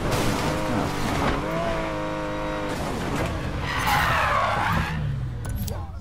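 A Porsche 911 Carrera S drifts in the racing game Need for Speed Payback, with engine revs and a sustained tire squeal and skid sweeping through the middle, played at moderate loudness.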